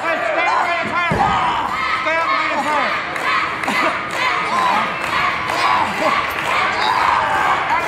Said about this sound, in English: Crowd wants Dr. Roger Hamm to tap out.